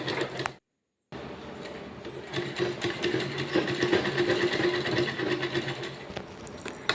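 A sewing machine stitching the neck seam of a girl's coloured school uniform, running steadily and close with a rapid mechanical hum after a brief silent pause at the start.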